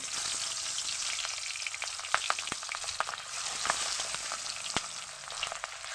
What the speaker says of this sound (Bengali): এখন নুন হলুদে মাখানো পাবদা মাছটা তেলের ভিতরে দিয়ে দেবো।